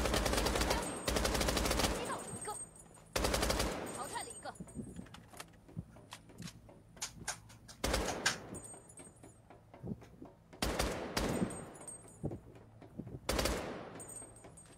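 SMG gunfire in a video game, heard as several loud bursts of rapid shots spread across the clip, with quieter game sounds and occasional clinks in between.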